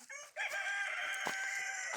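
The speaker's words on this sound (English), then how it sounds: "look at the chicken" A rooster on a farm crows once, loud and close: a brief cluck, then a long drawn-out cock-a-doodle-doo that carries to the end.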